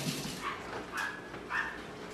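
A neighbor's dog barking outdoors during backyard grilling, with three separate yips or barks spread over about two seconds, distant and moderate in level against a steady background hiss.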